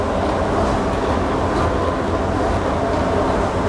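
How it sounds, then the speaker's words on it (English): Steady rumble of a Disneyland Mark 7 monorail in motion, heard from aboard, with a continuous low drone and faint rhythmic clatter throughout, no talking. "You are riding aboard the Mark 7, the latest generation of Disneyland monorails"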